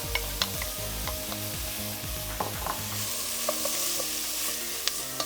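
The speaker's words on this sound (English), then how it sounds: "We're gonna mix this all together." Red lentils being stirred into a simmering vegan sancocho stew in a pot, a steady soft sizzle and scraping stir with a few light clinks, close and continuous with no talking.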